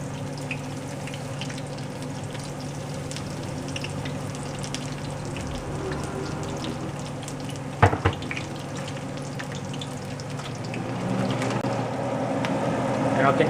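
Onion rings frying in oil with a steady, dense sizzle and crackle throughout, a brief clatter midway and the sizzle swelling slightly toward the end.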